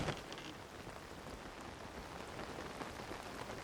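Steady, soft rainfall in The Legend of Zelda: Tears of the Kingdom, an even wash of drops on surfaces running continuously and quietly with no talk.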